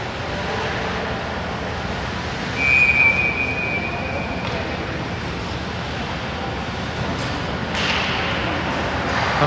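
A referee's whistle sounds at an ice hockey game, one thin sustained blast lasting about two seconds, heard over a loud, constant arena crowd roar.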